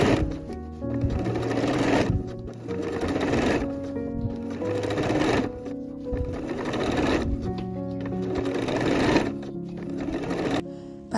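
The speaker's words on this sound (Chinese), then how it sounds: "然后把侧缝线缝起来" A sewing machine stitches the side seams of a 1960s-style vintage dress skirt, running in five or six loud, close, steady whirring bursts with short pauses between them.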